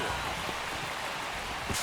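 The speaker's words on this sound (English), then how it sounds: "This rain is not letting up." Steady rain pours over a ballpark during an MLB The Show 25 baseball game, a constant broadband hiss filling the whole clip at moderate level, with faint crowd and game ambience beneath.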